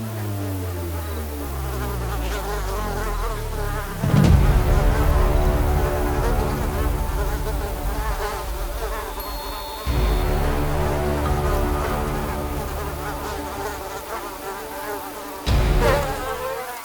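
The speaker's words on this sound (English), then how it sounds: "we would go outside for a minute and be covered in mosquitoes" Outdoors in Buenos Aires, a swarm of mosquitoes whines close to the microphone, a dense, continuous high-pitched drone rising and falling as insects pass, with a few bumps of handling noise and no voices.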